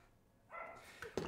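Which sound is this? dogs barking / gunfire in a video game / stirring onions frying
dogs barking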